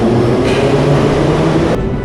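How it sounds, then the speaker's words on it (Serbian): A Tashkent metro train in Uzbekistan rumbles loudly and steadily close by, a dense continuous roar of rolling wheels with no break and no voices. "u centralnoj Aziji prvi metro napravljen u Taškentu i evo ga funkcioniše i dan danas"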